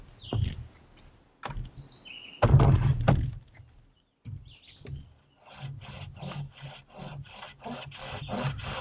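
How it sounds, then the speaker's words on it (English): A handsaw cuts a small notch in wood outdoors with scattered rasping strokes and a few knocks, building into a faster run of rhythmic back-and-forth strokes near the end. "so I'm going to use a handsaw."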